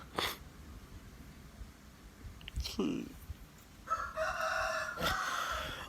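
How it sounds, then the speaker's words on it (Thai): A neighbour's rooster crows loudly nearby in the early morning, its call rising and breaking, amid scattered background noises and clucking. "เสียงไก่ข้างบ้านคือแหกปากแบบไม่หยุด"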